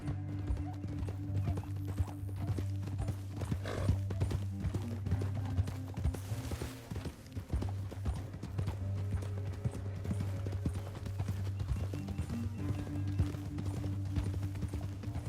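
Steady rhythmic clip-clop of horse hooves at a gallop in Red Dead Redemption 2, continuous over a low droning background, with no talking.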